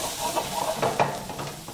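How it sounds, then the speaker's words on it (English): Chopped ingredients, headed for beef teppanyaki, frying in a little oil in a pan, a soft close sizzle with light stirring scrapes and a couple of small clicks, no voices. "we're just going to fry them a little bit on the pan"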